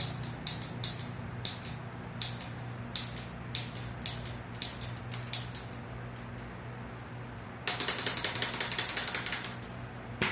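A new rear derailleur on a mountain bike converted to a straight bar clicks through the gears in a close, quiet series of sharp regular ticks, then breaks into a rapid, denser ratcheting.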